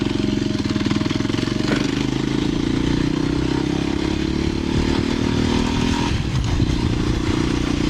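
A motorcycle engine runs loudly and steadily nearby in the Moroccan High Atlas, its rough rumble rising slightly in pitch before a brief shift in tone.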